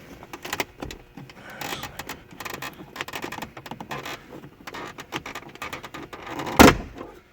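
Plastic trim tool working along the side trim of a BMW M6/650i center console, a string of close, uneven plastic clicks, scrapes and creaks ending in one sharp loud pop as the piece releases.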